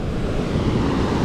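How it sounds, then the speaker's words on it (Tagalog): Large ocean waves at Balayan, Batangas, heard as a steady, loud roar of surf mixed with wind buffeting the microphone, continuous and without talk. "Tignan mo naman ang alon."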